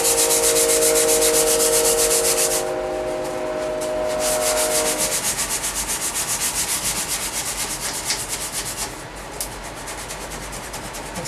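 Steady dry rubbing of hand sanding along the grain of a carved wooden guitar neck, a continuous close scratchy texture with faint tonal hum early on, no talk.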